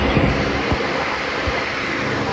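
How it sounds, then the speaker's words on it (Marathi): A train pulls in on a Mumbai-area rail line near the Airport Road entrance, a steady loud rumble with low thumps from the wheels, continuous throughout with no talk. "ट्रेन आली आहे."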